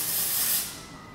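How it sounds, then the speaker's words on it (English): Hairspray hisses from an aerosol can onto hair in one close, loud burst that fades out after about half a second. "you can spray it from the roots all the way to the mids"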